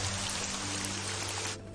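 Rain falls in a steady, soft hiss of drops with a faint low hum beneath, easing slightly at the very end of a brief moment.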